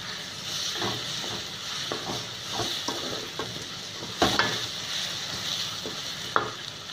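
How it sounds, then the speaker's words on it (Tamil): Soft sizzling of onions sautéing in a pan over medium flame, with occasional stirring scrapes and light clinks of a utensil. "ஒரு மீடியம் ஃப்ளேமில் வச்சு நல்லா வதக்கியிருக்கேன்"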